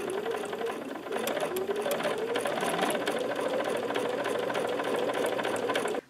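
A sewing machine stitches binding held in place by clips, running steadily with a fast, even mechanical whir and needle clatter, close and continuous throughout.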